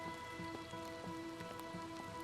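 Steady rain falls in the VEIN video game, a soft constant patter of drops on surfaces, faint and even throughout, with a few steady electronic tones humming underneath.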